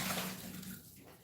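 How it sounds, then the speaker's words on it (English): Hands being washed in soapy water at a kitchen sink, a steady close splashing and running-water wash with no talk. "let me wash hands real quick"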